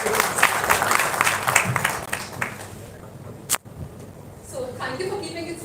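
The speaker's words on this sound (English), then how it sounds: "please a loud round of applause for Arvind." A conference audience claps for a few seconds after a speaker, the applause fading out, then a sharp knock and quieter room sounds follow.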